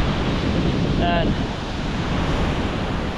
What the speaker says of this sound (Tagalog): Nandito tayo sa seaside, yan, no? Nakikita nyo yung alon,